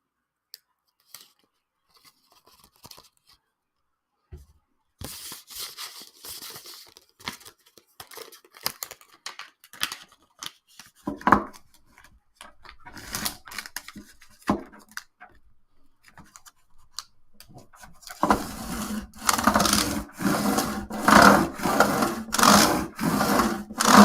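Fine 3000-grit sandpaper is rubbed across the new frets of a vintage classical guitar in short, scratchy bursts. The strokes start sparse and quiet, then turn into a fast, even back-and-forth rhythm, close and dry.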